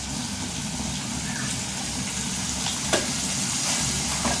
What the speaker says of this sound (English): let me just stir it to make it easier